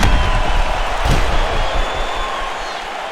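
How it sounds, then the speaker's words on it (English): Crowd noise swells as spectators applaud and cheer after a round of a UFC 4 video game bout, a broad steady roar with one sharp thump partway through. "So the crowd voicing its appreciation after that round."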